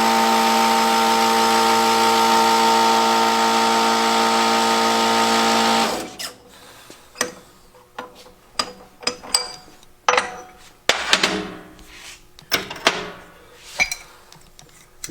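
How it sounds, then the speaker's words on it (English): A workshop press drones in a steady mechanical hum while a bushing is pressed onto the pin of a Harley-Davidson connecting rod, then stops, followed by scattered metallic clanks and knocks from handling the parts. "we take the bushing, put it on the pin, put it under the press, and press it right in"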